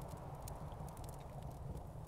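Horse hooves clip-clop steadily in a medieval kingdom-building video game, a soft, even patter of hoofbeats under low background music with no talk.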